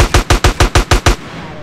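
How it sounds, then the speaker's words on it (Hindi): Automatic gunfire from GTA San Andreas: a rapid, loud burst of seven evenly spaced shots, close and alone, cutting off sharply before a short fading tail. "पहले मैं गोली चला रहा था"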